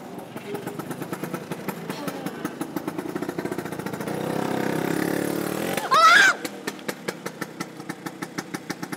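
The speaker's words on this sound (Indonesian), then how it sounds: "Kayak suara motor orang." A motorcycle engine runs nearby with a steady, rapid pulsing beat, briefly masked by a louder rushing swell and a short whistling sweep before the even chugging returns.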